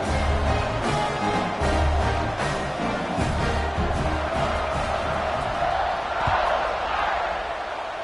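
A college football stadium crowd roars and cheers after a touchdown drive. The broad, loud wash of noise swells at the start and holds steady, fading slightly toward the end.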